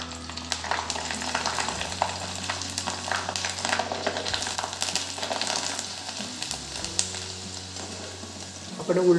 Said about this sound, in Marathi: तापलेल्या तेलातच आपण कुरडई तळणार आहोत